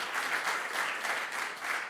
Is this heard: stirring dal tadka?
no